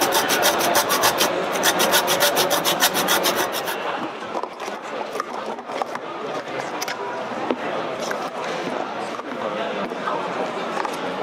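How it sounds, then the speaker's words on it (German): Hand sawing of wood at a job fair, a steady rapid rasping stroke rhythm at close range, loudest in the first few seconds, then continuing as softer rubbing under crowd murmur and voices. "hier kann man ja auch was sägen"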